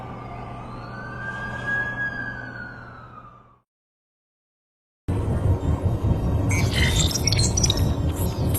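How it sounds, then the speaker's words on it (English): An ambulance siren wails in a rising and falling sweep, fairly clear and then fading out, followed after a silent gap by a cut to busy, clattering noise. "That's the ambulance I called."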